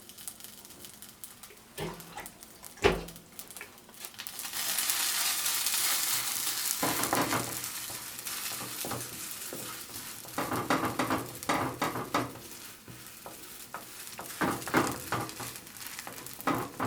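Flatbread dough with niger seed sizzles and crackles on a hot pan over lowered heat, a soft steady hiss with intermittent scraping and tapping sounds nearby.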